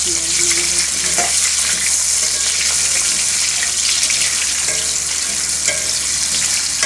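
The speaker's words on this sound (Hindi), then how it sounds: "और ये मैंने आलू डाल दिए, हल्का ब्राउन होने तक मैं इनको भी फ्राई कर लूँगी" Potato pieces frying in oil in a pan, a loud, continuous close-up sizzle with occasional stirring scrapes.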